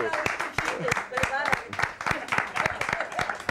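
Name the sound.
audience applause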